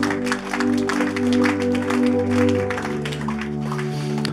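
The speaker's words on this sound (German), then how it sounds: "Dürft ihr euch selber mal einen Applaus geben?" A church congregation applauds itself during a sermon, steady crowd clapping layered over sustained organ or keyboard chords that hold beneath the hands throughout.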